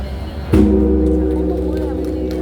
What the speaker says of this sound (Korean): 다섯 번째 가종이 시작되겠습니다